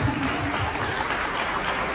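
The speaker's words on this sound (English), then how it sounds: "Por favor, un fuerte aplauso para todas las chicas" A gala dinner crowd at the Miss Grand International 2019 welcome event applauds, a dense, even roar of many hands clapping that holds steady from start to finish.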